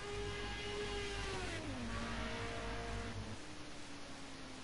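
A Group A race car in a sim racing game crossing the line at the Bannochbrae track at the end of qualifying, its engine note droning steadily, then dipping in pitch as it passes.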